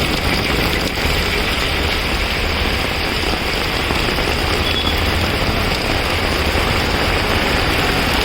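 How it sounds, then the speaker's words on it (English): Steady, dense monsoon rain hisses without a break on a flooded Mumbai road, a heavy downpour heard close by with a low rumble underneath. "Heavy rain."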